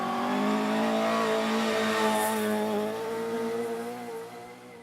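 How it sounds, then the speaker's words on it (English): Opel Corsa rally car racing on a forest stage, engine revving hard with a strong steady harmonic whine that shifts pitch as it passes close by, then fades slightly at the end. "Pearse Doheny and Ailish Dunn did some off-roading in their Opel Corsa en route to second place"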